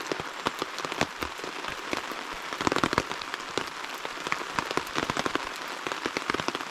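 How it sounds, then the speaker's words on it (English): Heavy rain pounds on a tarp overhead, a dense steady patter with sharp individual drop hits scattered throughout, close and loud with no voices. "Maybe the rain will lessen. Right now it's coming down even harder than it was before."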